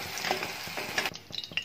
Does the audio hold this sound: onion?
yes